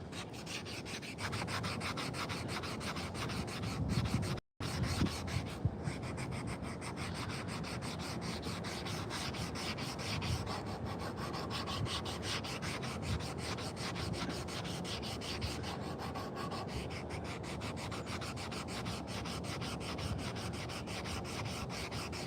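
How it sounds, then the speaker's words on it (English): A carved wooden spoon is sanded by hand in a continuous close, dry rubbing scrape that goes on for over twenty seconds, with one brief break near the start. "the more sanding you do, the more it brings out the grain in it"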